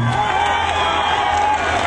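Festival concert audience in Çorlu cheering and clapping, a dense continuous roar of crowd noise with whoops, loud and sustained for the whole short stretch.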